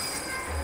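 A train rumbles along its tracks with a steady metallic roar and faint wheel squeal in the Marvel's Spider-Man 2 video game, continuous and close, with no voices.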